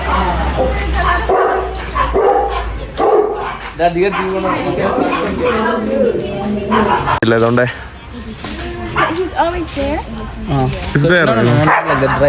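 Several dogs bark and yip repeatedly nearby, mixed with whimpers, while people talk over them.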